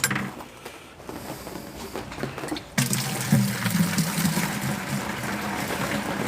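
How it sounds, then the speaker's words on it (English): Water pours into a pail inside a barn, starting as a quieter trickle and then surging into a louder, steady gush with some metallic clatter. "get ourselves another pail of water"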